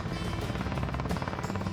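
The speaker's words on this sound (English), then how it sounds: "Captain Kate controls the helicopter by pointing the rotor blades in the direction she wants the helicopter to fly" An air ambulance helicopter flies overhead, its rotor blades giving a steady, rapid chop over a loud, broad engine roar, sustained and fairly close, with no voices.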